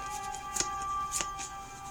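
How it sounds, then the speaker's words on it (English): Yu-Gi-Oh trading cards are shuffled by hand, giving a soft riffling flutter with a few sharper snaps of cards knocking together, close and quiet. "now I'm going to shuffle these guys up"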